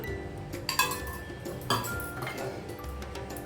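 Metal spoon scraping and clinking inside a pressure cooker while spreading oil around its base, with a few sharp knocks over steady low background noise.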